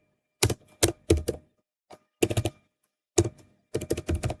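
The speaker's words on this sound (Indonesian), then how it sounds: "Lalu kita ketik di sini" Keys on a computer keyboard clack in short clustered bursts separated by pauses of silence, crisp and close, with no voices present.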